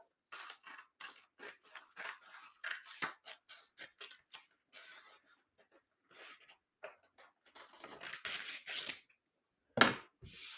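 Scissors snip through foam in quick, quiet clusters of crisp cutting strokes, pausing and resuming, with one louder snap near the end.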